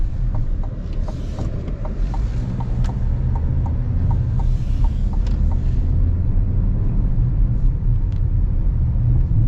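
Steady low cabin rumble and engine drone from a 2026 Chevy Equinox Midnight with a 1.5 liter engine while driving in hot weather, continuous and even, with faint light ticks and rattles over it.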